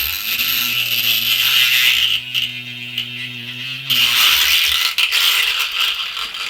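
An airbrush paint bottle shaken to mix the paint gives loud, fast rattling in two bursts, broken in the middle by a brief steady hum.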